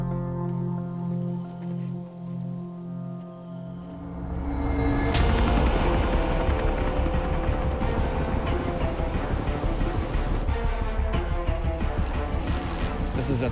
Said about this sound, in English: This is a third chopper coming in as these guys have run.